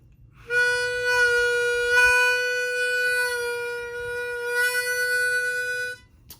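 A single sustained harmonica draw note on hole 3 held for several seconds, its pitch bending down slightly partway through before returning, close and steady.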